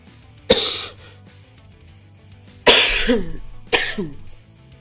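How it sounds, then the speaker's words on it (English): A person coughs sharply once, then after a pause coughs twice more in quick succession, close and loud, with silence between. "Like I said, anytime I have a little cough, I'm going to take a drink of water."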